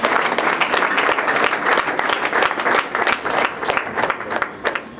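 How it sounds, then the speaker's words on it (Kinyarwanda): A crowd at a youth church gathering claps loudly and steadily, a dense continuous round of applause close by with no talking. "amashyi menshi cyane"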